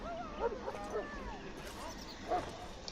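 A Mabari warhound in the video game Dragon Age Origins gives short yips, whimpers and barks close by, repeated in brief bursts over a low game background.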